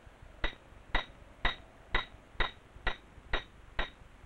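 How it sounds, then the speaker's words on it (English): Steady metallic hammer strikes driving pitons into rock cracks on a mountain climb, about nine evenly spaced ringing blows, close and distinct over quiet outdoor background. "The lead climber's life depends on the pitons he hammers into cracks."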